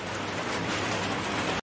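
Steady rain pours close by with wind driving the water, a dense unbroken hiss that runs the whole moment with no voices over it.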